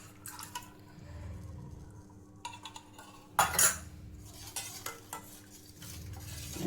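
Melted wax, camphor and ghee being stirred in a bowl, quiet scraping and clinking of a utensil against the bowl with a few louder knocks, over a low steady hum.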